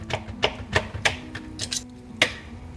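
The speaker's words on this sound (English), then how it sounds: "I'm gonna cut it with a butter knife." A butter knife cuts through tender, rested cooked meat on a plate, giving a handful of separate soft taps and scrapes against the dish at an irregular pace, close by, over a low background hum.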